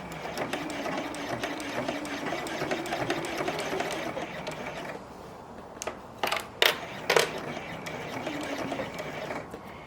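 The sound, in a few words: sewing machine stitching bias tape on coat seam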